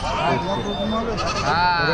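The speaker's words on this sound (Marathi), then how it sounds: "आज शेळ्यांचे बाजार आहेत" Goats bleat at a busy livestock market, wavering cries rising over a dense din of people talking and bargaining nearby.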